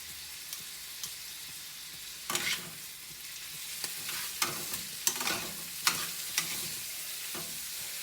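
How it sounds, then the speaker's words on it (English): Plugra butter melts in a pan, giving a soft, steady sizzle with scattered crackles and pops that flare up at irregular moments. "We're going to melt the butter."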